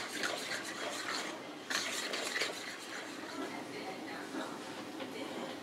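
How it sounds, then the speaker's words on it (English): A spoon stirs a wet batter of cream and melted butter in a bowl, making a continuous close-up scraping, squelching rub with small clinks, steady throughout. "we're just going to stir all of this until it forms a batter of sorts"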